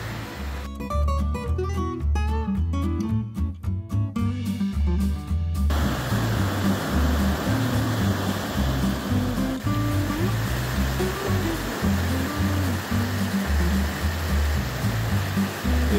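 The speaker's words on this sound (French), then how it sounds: "Mais il y a une rivière, c'est sûr." A river rushes steadily, loud and close, on an autumn hike around Mont Balvay in the Ain, France, with a brief burst of bright tonal music near the start.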